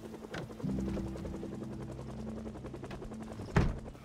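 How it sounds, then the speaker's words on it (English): A helicopter passes overhead in the zombie survival game Project Zomboid, a steady rotor drone and rhythmic thump filling the scene, with a sharp bang near the end. "that was quickly cut short when he heard a chopper overhead"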